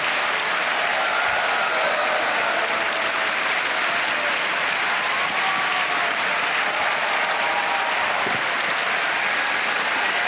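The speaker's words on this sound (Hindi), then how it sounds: "तालियां बज जाए इनके लिए" Studio audience on a TV quiz show applauds a contestant who has answered ten questions correctly, a dense, steady wash of clapping that fills the room from start to finish without any talk.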